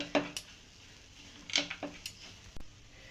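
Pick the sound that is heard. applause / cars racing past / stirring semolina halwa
stirring semolina halwa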